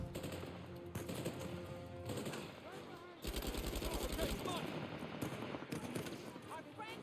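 Rapid automatic gunfire in an Uncharted 4 multiplayer match, bursts of repeated shots rattling in the foreground alongside game effects, with players talking over it.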